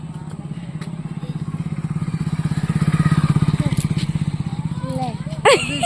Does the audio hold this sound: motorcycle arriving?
yes